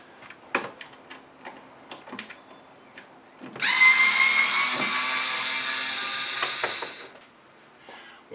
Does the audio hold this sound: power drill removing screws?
yes